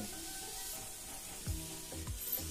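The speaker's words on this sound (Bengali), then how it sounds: "পেঁয়াজটাকে 2 মিনিট সময় ধরে গোল্ডেন ব্রাউন করে ভেজে নিতে হবে" Onion and ginger frying in a little oil until golden brown for a Bengali ridge gourd and potato chorchori, with a soft, low sizzle and a few scraping stirs near the end.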